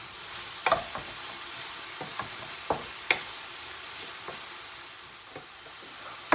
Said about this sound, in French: je mets mes carottes râpées et pareil, je laisse réduire un petit peu à feu moyen tout en mélangeant régulièrement